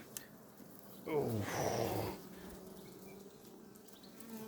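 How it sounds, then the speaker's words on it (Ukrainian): A steady hum of Ukrainian M9 honey bees buzzing close by, with a louder breathy swell in the middle but no clear words. "Тут українська бджола М9."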